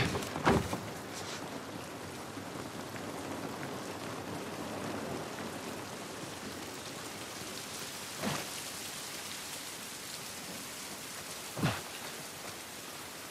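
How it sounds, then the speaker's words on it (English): Steady rain in The Last of Us Part 1 pours outdoors in a quarantine zone, a dense even patter with a few louder splashing drops, heard alone without speech. "This rain ain't gonna do us any good."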